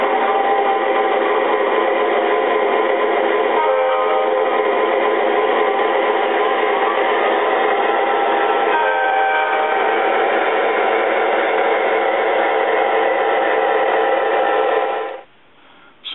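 A continuous band-limited rumble of three Lionel model trains running steadily together, with brief tonal shifts along the way, cutting off sharply near the end.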